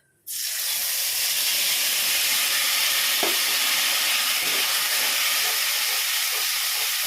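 Spice paste for cauliflower korma hits a hot pan with a sudden loud hiss that settles into a strong, continuous sizzle lasting several seconds, close by and without speech.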